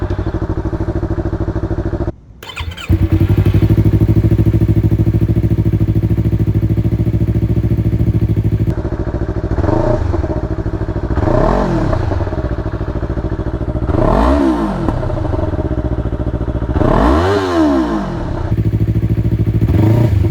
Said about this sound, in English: we're gonna do the first official start with the Akrapovic slip-on exhaust